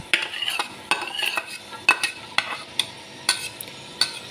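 Chopped onion sizzles in a pan of oil or ghee while a utensil stirs and scrapes it in repeated strokes, close up and fairly quiet, with no talking.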